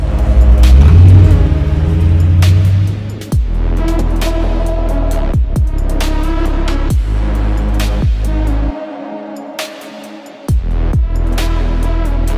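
Dodge Challenger R/T Scat Pack 392 Widebody muscle car with a 500-horsepower V8, a loud deep rumble with several sharp throttle blips and a brief drop to quiet before it roars back, heard up close with no talk.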